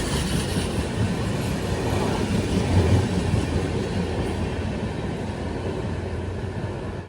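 A passenger train travels from Mumbai Dadar toward Madurai, a loud, steady onboard rumble of wheels on rails with constant broadband roar and no speech.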